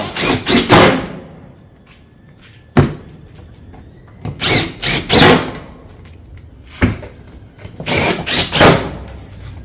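A power drill drives fasteners into Pacific Tile rake roof panels in quick whirring bursts, clustered in groups of two or three with short gaps, loud and close, with sharp clacks between them.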